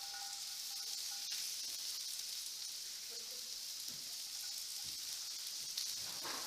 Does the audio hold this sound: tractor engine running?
no